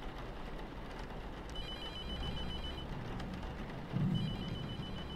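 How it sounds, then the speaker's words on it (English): A telephone rings in The Mortuary Assistant horror video game, a trilling electronic bell repeating in two bursts over a low droning ambient background, fairly clear and alone. "I guess that's my phone."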